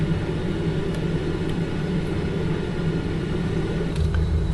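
Steady low engine rumble and broadband roar of a jet aircraft climbing after takeoff in a flight simulator, continuous and even throughout with faint clicks on top.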